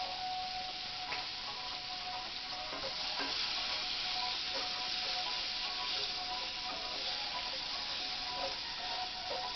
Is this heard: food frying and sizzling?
yes